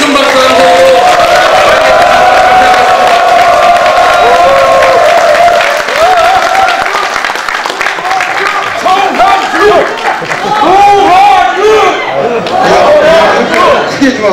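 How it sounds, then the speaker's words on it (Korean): A large crowd at a regional council members' rally applauds and cheers for an arriving council chairman, loud, steady clapping with whoops and shouts that swell and continue throughout, chatter mixed in. "여러분 큰 박수 함성으로"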